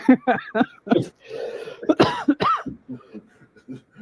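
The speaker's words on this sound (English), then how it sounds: "You guys are making me cough up." A person coughs several times in short, harsh bursts up close during a podcast recording, mixed with a bit of throaty voice and breathing.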